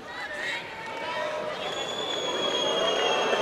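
A badminton arena crowd at the 2012 All England mixed doubles final reacts to a replay on the giant screen with a rising, sustained roar and murmur while a commentator talks over it.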